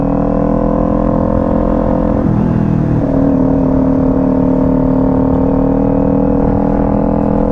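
Motorcycle engine pulling loud and close after an upshift, a brief dip in its steady drone around the gear change before the tone rises and holds while accelerating.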